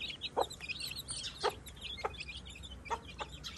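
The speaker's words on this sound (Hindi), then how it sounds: "ये देखें दोस्तों कितने प्यारे छोटे छोटे चूजे निकल आए" Soft clucking from a hen with faint high peeping of newly hatched chicks, several short calls spaced irregularly over a low background hum.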